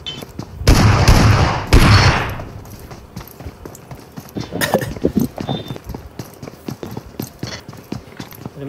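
Two loud shotgun blasts from the battle royale game BGMI boom out close together in the first two seconds, then lighter scattered clatter and footsteps follow at a lower level.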